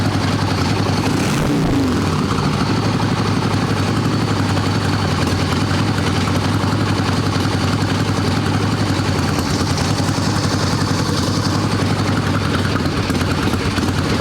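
An Evo-engined Sportster chopper motorcycle idles steadily up close, a continuous low rumbling drone with a faint thump near the start and no talking.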